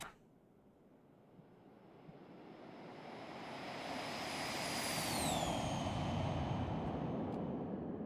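An Embraer Phenom 300 business jet takes off and climbs, its engine roar steadily building in loudness, with a high turbine whine that sweeps downward partway through.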